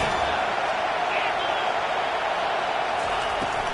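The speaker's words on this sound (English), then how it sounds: "This crowd trying to make life miserable for this offense." Steady, dense roar of a stadium crowd at a football game, continuous loud wash of cheering with no breaks, with faint commentary underneath.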